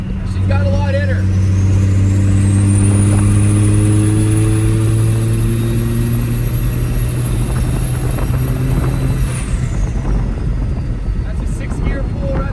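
A tuned second-generation Cummins diesel truck with a Quadzilla Adrenaline tune pulls hard in sixth gear, its loud engine drone climbing steadily in pitch with a high whine over it for about ten seconds before easing off.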